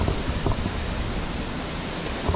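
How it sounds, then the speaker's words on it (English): A small waterfall on a hiking trail gives a steady broadband rushing hiss, continuous and fairly loud, with no voices. "Oh, there's a little waterfall down there."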